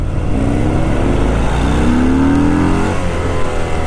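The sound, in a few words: Harley-Davidson Fat Bob 114 motorcycle engine while riding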